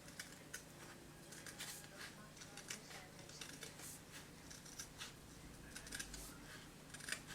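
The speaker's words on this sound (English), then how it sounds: "But to make it neat, let's just give it a trim." Paper card for a wreath card being trimmed with scissors, a string of quiet, crisp snips in an uneven rhythm, close but faint, with no talking.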